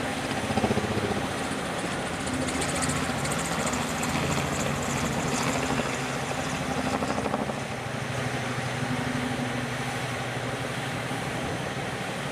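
A Boeing P-8 taxiing at Honolulu airport, a steady whining engine drone with broad rushing noise, heard continuously at moderate distance amid general airport ambience.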